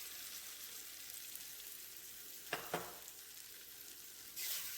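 Fried egg and dried chilli powder masala being stir-fried in a pan, a soft steady sizzle with a couple of sharp scraping stirs midway and a louder burst of frying near the end; no talking.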